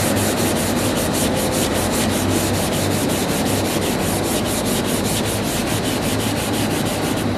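A small sanding block rubs by hand across a car body panel with guide coat, in steady diagonal strokes, a close, continuous rasping scrape with regular rhythmic pulses and no talk.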